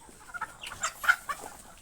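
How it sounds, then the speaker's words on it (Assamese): Free-range local chickens clucking nearby, several short clucks and calls at uneven intervals against a quiet outdoor background. "এইখিনিয়ে মোৰ লোকেল মুৰ্গীখিনি, এইখিনি মই মুকলিভাৱে পালন কৰি আছোঁ।"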